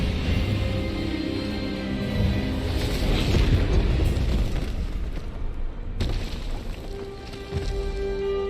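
A spell is cast in the Hogwarts Legacy video game, a loud booming magical blast with a dense rumbling surge that swells, cuts off sharply and then returns in a second burst, with no speech.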